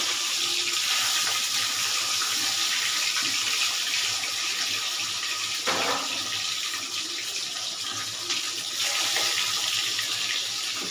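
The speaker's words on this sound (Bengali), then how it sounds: "এই মাছ খুব ফাটে ভাজতে গেলে" Fish frying in hot oil in a wok gives a loud, dense, unbroken hiss of sizzling and spattering that stays close and steady throughout.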